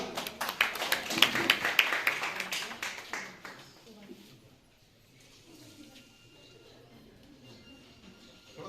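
Audience clapping at a civic service committee's blanket distribution meeting: a dense burst of applause for about three seconds that quickly fades, leaving a quiet hall murmur.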